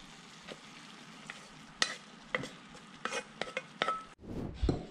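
Pasta being stirred into a simmering, reduced sauce with giant sea snail, in an outdoor South African catch-and-cook setting; a low sizzle runs throughout, broken by several sharp utensil scrapes and clinks against the pan, with a louder shuffle near the end.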